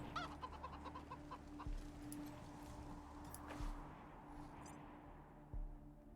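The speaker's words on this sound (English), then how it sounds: "I think there's another cyborg chicken in there too" Cyborg chicken in the game Wasteland 3 clucking, faint scattered clucks over a low ambient game background with a few soft thumps, no talking.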